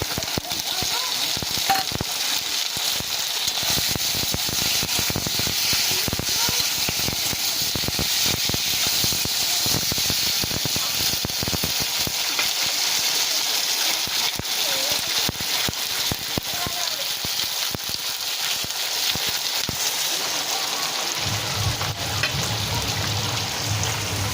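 Chopped tomatoes frying in a pan, with a loud, steady, close sizzle and hiss throughout and occasional stirring scrapes, while a voice talks over it.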